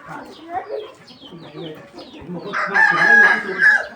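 A rooster crows loudly in the latter half, a long strained call, with chickens clucking and a voice murmuring earlier.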